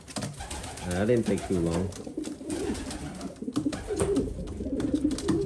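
Newly paired racing pigeons, a Jansen-based cockbird and his hen, give close, repeated throaty coos in a loft while someone talks briefly over them.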